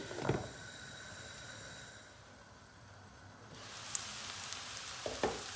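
Onions sizzling and frying in a pan, a soft steady hiss with a few sharp crackles and spoon stirring knocks, fairly quiet.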